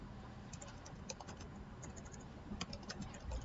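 Quick keystrokes on a computer keyboard as a company name is entered into accounting software, a steady close-up patter of taps with a few louder clacks over faint room noise.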